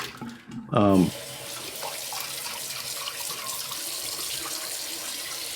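Steady broadband rush of water running from a tap, continuous and fairly loud after a brief thud at the start.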